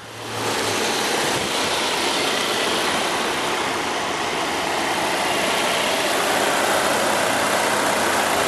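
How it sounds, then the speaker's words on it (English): A 2015 Volvo XC60 T5 with a turbocharged 2-liter inline four-cylinder idles steadily and close by, a smooth, even engine hum with broad hiss that holds at the same loudness throughout. "turbocharged inline 4-cylinder engine"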